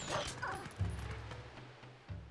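A dog in The Legend of Zelda: Twilight Princess whimpers and yips while on fire, several short pained yelps and whines up close, loud against a quiet background.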